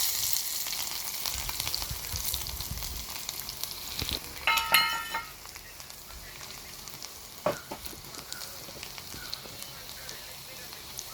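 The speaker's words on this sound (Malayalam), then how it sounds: "കടുക് പൊട്ടി വരുമ്പോൾ വെളുത്തുള്ളി ചേർത്ത് കൊടുക്കുക." Crushed garlic frying in hot oil with mustard seeds, a steady sizzle with spattering crackles and a loud burst of stirring and popping partway through, heard close and alone.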